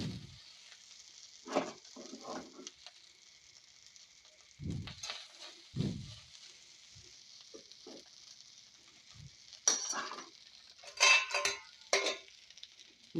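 Rice is stirred into fried garlic and chili in a hot pan, giving a steady sizzle broken by the scrape and clink of a spoon against the metal in irregular bursts, close by and with no talking.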